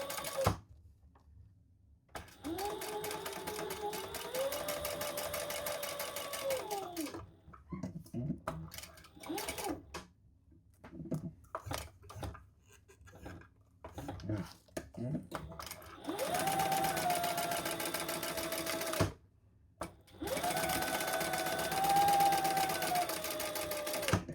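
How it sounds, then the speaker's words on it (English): Sewing machine chain stitching down the sides of a fabric crossbody bag, bursts of fast, close mechanical whirring that stop and restart, with handling noises and pauses in between. "let's Sew down each side. Just do some chain stitching here."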